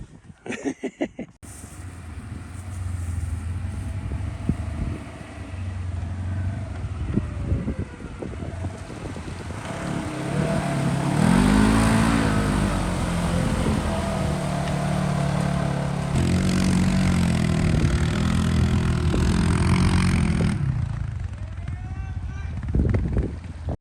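Polaris off-road vehicle engine straining uphill with a gearbox fault and no low gear, a steady loud drone with rising and falling revs, rough knocking pops and heavy wind buffeting on the microphone.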